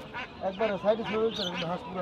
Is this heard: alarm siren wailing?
no